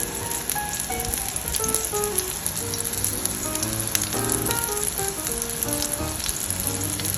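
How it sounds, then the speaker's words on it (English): A meatball sears in hot oil in a preheated Le Creuset brazier, producing a loud, dense, continuous sizzle with crackling pops throughout and no talk. "using a Le Creuset brazier, I am gonna sear my meatball first"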